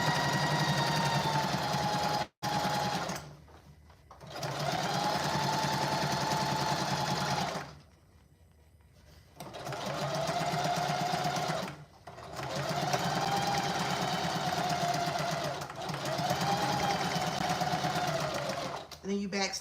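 A sewing machine stitches a tote bag seam in long, steady runs close by, halting for brief pauses between stretches of humming, rapid needle chatter.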